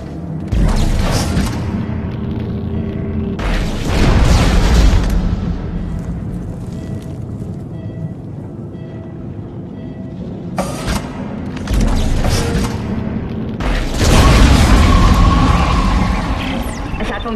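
Nitrogen trichloride tank detonating in Dead Space 2: several heavy booms and rumbling bursts roll through, with loud eruptions near the start, middle and end over a continuous low game rumble.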